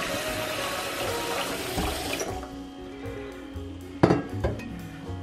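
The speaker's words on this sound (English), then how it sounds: "So I'm gonna put some cold water in here." Cold tap water runs into a 2-quart pot in a kitchen, a steady rushing splash that changes tone partway through, followed by a few sharp clanks of the pot near the end.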